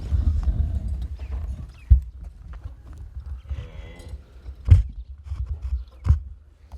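A horse being trained for ulak walks nearby, its hooves striking in uneven clip-clops with a few sharper louder hits among softer steps and faint background rustle.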